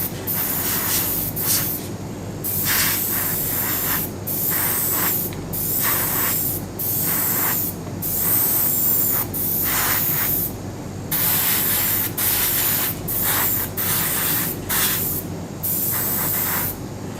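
Airbrush or spray paint laid down as a thin mist coat on a Bandai Spirits Petit Rise Gilgamesh figure: repeated close hissing bursts of varying length, separated by brief pauses, with no talking.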